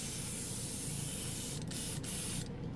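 Airbrush spraying with air from a Tooty compressor, a steady close hiss running throughout, with a few brief clicks near the end.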